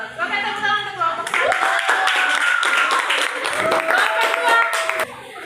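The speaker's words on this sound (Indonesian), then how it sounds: "Oke, tepuk tangan untuk kelompok." A classroom of students claps for a student group after a presentation, steady dense clapping filling most of the clip with voices mixed in.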